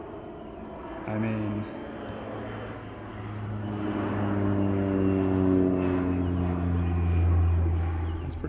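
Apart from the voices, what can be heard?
airplane flying over a golf course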